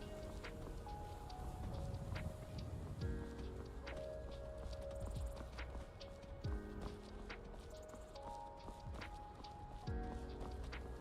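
Horse hooves clip-clop steadily in the modded Skyrim video game, a regular mid-distance rhythm over faint background game music.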